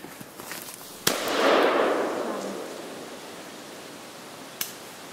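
A single sharp .410 shotgun blast during a red squirrel hunt in Michigan's Upper Peninsula, followed by a short rolling echo through the woods and a fainter distant crack a few seconds later.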